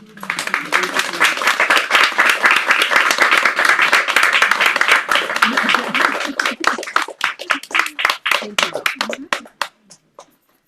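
Audience applause follows a poetry reading by two poets in a hybrid Zoom session, dense clapping that thins into scattered separate claps before fading, with a voice speaking over it.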